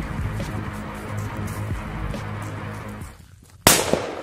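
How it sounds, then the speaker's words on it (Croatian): A Mamba 1 firecracker goes off outdoors: a steady rushing hiss gives way to a brief lull, then a single sharp, loud bang with a quick decaying tail. "Hajmo Mambu 1, ljudi, da testiram, da vidimo kako će Mamba 1 da razvali."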